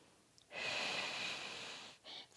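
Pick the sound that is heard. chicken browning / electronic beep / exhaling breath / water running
exhaling breath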